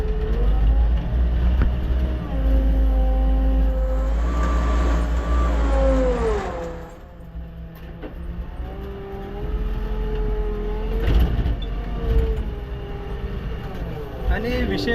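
A JCB backhoe loader levelling ground keeps up a steady, heavy low engine rumble that dips briefly midway, with a voice talking over it at times.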